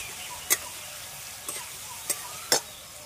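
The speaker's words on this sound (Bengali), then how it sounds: "কাঁকরোলটাও এর ওপরে দিয়ে দেবো। খুব ভালোভাবে কষিয়ে নেব, মশলাটা দিয়েছি।" Spiced teasel gourd (kakrol) sautéing in a pan, a steady low sizzle with four sharp spatula scrapes or taps spaced through it, no voices.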